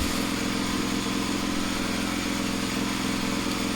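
A steady, close car engine hum runs throughout with a low rumbling pulse, idling nearby, with no voices.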